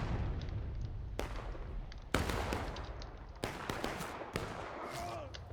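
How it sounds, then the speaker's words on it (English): Cannon and musket fire in the Civil War video game War of Rights, with several sharp, loud blasts booming close by at irregular intervals over a steady din of battle. "This cannon is gonna fire directly into their side down this."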